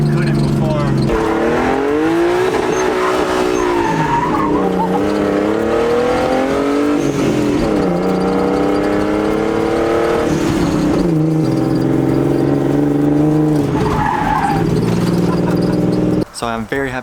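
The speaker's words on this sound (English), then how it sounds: "I'm very happy to report that the car does not grind going into second gear anymore" Nissan 240SX with a swapped RB20DET engine revving and pulling through gear shifts, its pitch climbing and dropping repeatedly in loud, close runs, with a brief break near the end.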